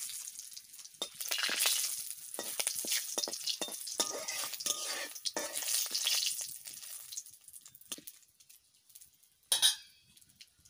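Cumin seeds and bay leaves sizzle in hot oil in a pan with a steady, crackling hiss, broken by scattered pops and stirring clatter. A sharper spatter comes near the end, and no voices can be heard.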